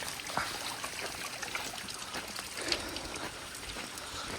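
Steady trickling and splashing of floodwater flowing over a road after heavy rain, a continuous wash of running water with occasional small splashes, no voices.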